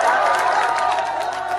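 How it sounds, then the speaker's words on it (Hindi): Audience at a mushaira, an international poetry gathering in Kamalpur, Bulandshahr, greeting a poet with steady, dense applause and crowd noise filling the whole stretch at close, even loudness. "आइए भरपूर तालियों से इस्तकबाल कीजिए"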